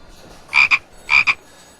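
A frog gives two close, loud croaks, each a quick double-pulsed ribbit about half a second apart, against a quiet background.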